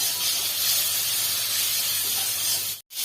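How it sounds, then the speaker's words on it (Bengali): Spice paste with tomato and water sizzles in a pan during a Bengali fish curry preparation, a loud, steady hiss that breaks off briefly near the end. "জল দিয়ে মশলাটা আমরা কিছুক্ষণ কষিয়ে নিচ্ছি।"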